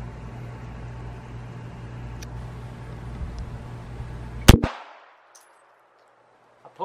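A single sharp crack from a Remington RM380 pistol fired outdoors, loud and abrupt after several seconds of steady background hum, followed by a short fading echo and then near silence.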